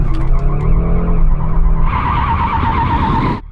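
A Mercedes car squeals its tyres loudly while warming them up, with a harsh, sustained screech over engine roar that rises in intensity partway through and then cuts off abruptly.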